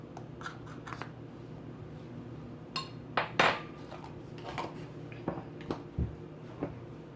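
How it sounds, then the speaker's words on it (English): Dry ingredients with baking powder and salt being mixed in a bowl, soft scraping and light clinks of a utensil against the bowl in irregular strokes, quiet and close. "Mix this up a little bit here before I move on to the wet ingredients."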